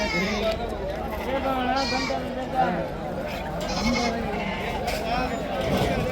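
Sheep and goats bleat repeatedly at the Harihar livestock market in Karnataka on a Tuesday morning, with steady crowd chatter and talk running underneath.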